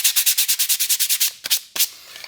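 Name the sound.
hand sanding butcher block coasters with 150 grit sandpaper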